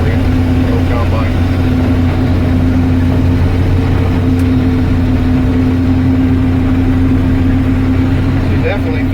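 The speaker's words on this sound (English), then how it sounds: "There you can kind of hear that rumbly tumbly little combine." A small combine harvests organic soybeans with a loud, steady, rumbling engine drone and a constant mechanical hum, close by and unbroken throughout, with talking barely audible beneath it.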